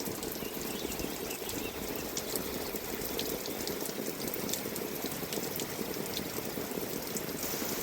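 Steady, continuous rain falls outdoors in a village, a soft even hiss of drops with faint scattered patters, quiet and unbroken with no voices.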